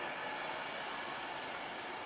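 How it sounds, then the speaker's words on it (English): A Virgin Trains Class 390 Pendolino departs Birmingham International station on the West Coast Main Line, a faint, steady rumble and hiss of rolling stock with no talk. "well obviously the Virgin Trains Class 390 Pendolino"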